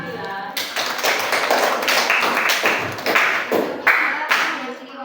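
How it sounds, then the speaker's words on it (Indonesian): Students in a classroom clap for a student group, a lively burst of many hands clapping at close range, with voices mixed in. "Boleh kasih tepuk tangan untuk kelompok Nadila."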